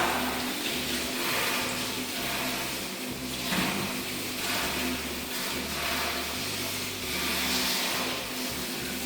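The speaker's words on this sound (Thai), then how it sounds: "ล้างออกด้วยน้ำเปล่านะน้ำเปล่าให้สะอาด" Tap water runs steadily while banana plant offshoots are rinsed, a constant splashing flow at moderate level with a low pump-like hum beneath it.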